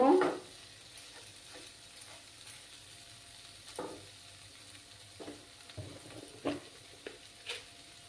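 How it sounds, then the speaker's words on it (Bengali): Spoon stirring a vegetarian Bengali dinner dish in a pan, with soft intermittent scrapes and light sizzle over a quiet background; a louder scrape opens, then scattered taps follow. "ভালো করে নাড়াচাড়া করে নেব।"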